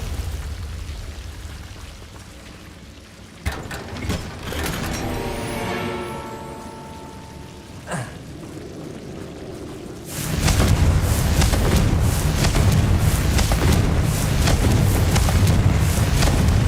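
Confringo blasting-spell explosions in the video game Hogwarts Legacy: sharp booms at intervals, then a sustained loud rumbling burst of blasts for the final stretch, with no talking.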